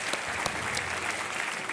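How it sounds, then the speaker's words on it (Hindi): A studio audience on a televised quiz show claps in steady, dense applause, evenly loud throughout with no pauses. "जनता ने पहले ही ताली बजा दी"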